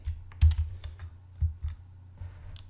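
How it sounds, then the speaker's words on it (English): Short bursts of keystrokes on a computer keyboard, a few clustered taps then a pause and more clicks, close and fairly quiet with no talking. "We can type print."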